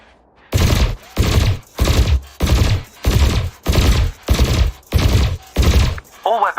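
Spaceship weapons in Elite Dangerous fire at floating canisters in about nine loud, evenly spaced bursts, each a short harsh blast, with no talk over them.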